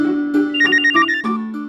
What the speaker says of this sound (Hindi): ये तो मेरे फोन की घंटी।